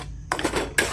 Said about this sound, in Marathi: दही टाकीते आता त्याच्यामध्ये. आता हलवून घेते.